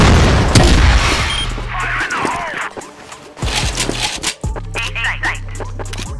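In a CrossFire online shooter match, a grenade goes off amid repeated gunfire and booms, loud and close, with a player talking over the action.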